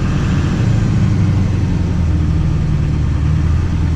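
A Chevy truck diesel engine with an LLY variable vane turbo running steadily nearby, a loud low idle rumble with a droning hum and no talk over it.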